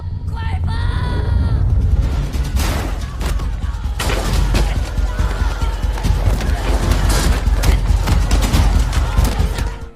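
A chaotic film shootout where police open fire, with loud bursts of rapid gunshots, crashes and yelling packed densely over ten seconds, close and intense throughout.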